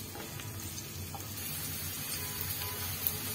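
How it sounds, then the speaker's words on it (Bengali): Chopped onions fry in oil in a pan, giving a soft, steady sizzle and hiss that runs evenly at low volume without pause. "পেঁয়াজটা 2-3 মিনিট ভেজে নেব।"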